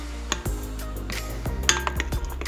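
A whisk or spoon clinks repeatedly against a bowl while beating a cottage cheese mixture with lemon and orange zest, turmeric and starch, producing close, irregular metallic taps and scrapes with no talking.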